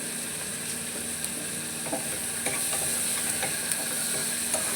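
Soybeans being stirred and mixed in a cooking pan at home, with a steady sizzle of frying underneath and occasional scraping clicks of the utensil against the pan, close and continuous throughout.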